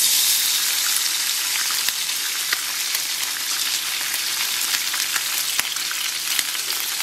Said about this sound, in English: we will add our bacon.